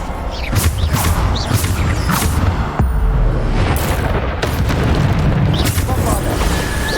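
Descendo spell slamming down in the video game Hogwarts Legacy, a heavy booming impact amid continuous battle noise, with a voice calling out over the combat.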